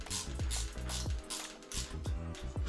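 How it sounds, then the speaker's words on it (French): A mountain bike's rear hub freewheel ratchets as the wheel spins, giving crisp, rapid clicking in several short bursts, close and clear with no talking. "Franchement, je suis fan de ce petit cliquet."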